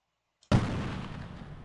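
A single gunshot in the Delta Force video game cracks loud and close after a brief silence, followed by a long, rumbling reverberant tail.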